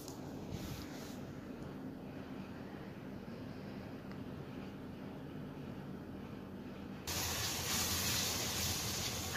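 Onions are dropped into hot oil and ghee in a pan. A continuous hiss swells sharply louder and brighter toward the end.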